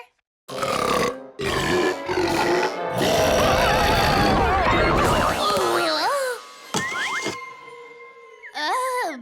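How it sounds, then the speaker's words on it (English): A cartoon monster lets out a huge, long, rumbling burp, loud and close, followed by shorter comic grunting and warbling vocal sounds in a children's animated show. "Big Burp Monster's Big Burp blew them all around."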